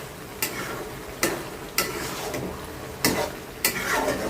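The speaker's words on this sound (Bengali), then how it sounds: "বুটটা একটু আগে বাগার দিয়ে দিলাম।" Chickpeas tempered in a pan sizzle steadily while a spoon scrapes and clinks against the metal five times at uneven intervals, close and fairly loud.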